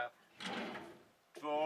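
Motorhome kitchen drawers slide open and shut in two short, close thuds and rumbles, separated by a brief quiet pause, with a voice beginning to talk at the end.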